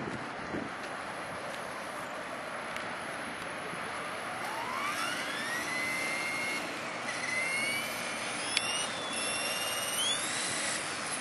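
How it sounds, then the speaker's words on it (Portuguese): An aircraft engine is run up during flight in an acceleration test, a steady broadband roar with a faint rising whine, heard from a distance at low level with no voices. "Fez um testezinho aí de aceleração."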